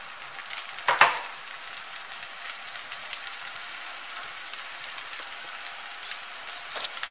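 Bread slices fry in oil in a pan, giving a steady soft crackling sizzle throughout with one louder spattering burst near the start and a small pop at the end.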